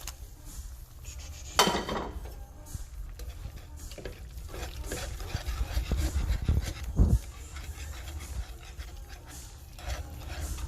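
Wire whisk working a thick roux into a beef tips gravy sauce in a pan, a steady soft scraping and stirring with a few louder clunks against the pan's side, close and continuous.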